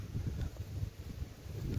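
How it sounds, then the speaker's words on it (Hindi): Strong wind gusting across a farm with date palms in Saudi Arabia, a continuous low buffeting rumble on the microphone that swells and dips unevenly throughout. "बहुत तेज़ हवा है।"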